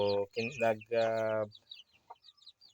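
Rooster from a breeding batch crowing up close in a few loud, drawn-out harmonic calls, followed by quieter clucks and scattered chirps as it tails off.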